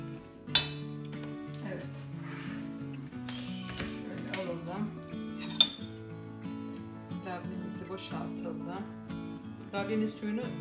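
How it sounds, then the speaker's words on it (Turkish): Labneh being stirred in a bowl for a cream-filled mock profiterole and ladyfinger tiramisu cake, with utensil clinks and scrapes against the dish over a busy kitchen background, a few sharper clinks standing out. "Labnemizi de şöyle karıştıralım."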